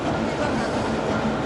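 A long-distance train rumbles along toward Saint Petersburg, heard from inside the carriage as a dense, steady roar with faint clatter beneath.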